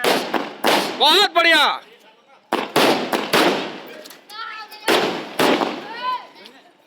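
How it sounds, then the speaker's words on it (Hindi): Firecrackers bursting outdoors at a BJP election victory celebration in Charoda, Chhattisgarh, a rapid series of loud, close pops and crackles in several clusters, with someone speaking briefly between and over the bursts. "पूरी जीत की खुशी पर यहाँ पर पटाखा यहाँ पर फोड़ा जा रहा है।"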